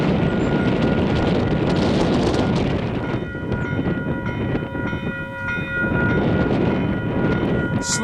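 A train pulls in past the Pascoe Ave level crossing on the Kapiti Line, its loud rumble and wind buffeting mixed with steady warning-bell tones from the crossing.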